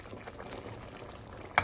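Pork ribs cooking in a pan give a continuous bubbling, frying sizzle, ending in a short sharp clatter near the end.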